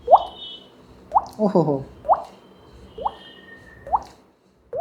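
A man imitates water dripping from a tap into a bucket with his voice. He makes a series of short, evenly spaced plopping drops, with a brief exclamation among them.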